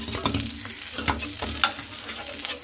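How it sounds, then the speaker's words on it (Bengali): Fish roe fritters sizzle in a frying pan, a close crackling hiss punctuated by spatula scrapes and sharp taps at irregular moments. "আর যেগুলো আছে বাকিগুলো আমি সেমভাবে কিন্তু ভেজে নেব"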